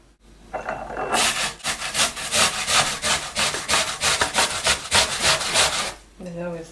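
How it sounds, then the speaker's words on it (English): An onion is rubbed against a grater for Swedish meatballs, giving a close, steady run of rhythmic rasping strokes that continue for several seconds before stopping. "we're going to grate the onion."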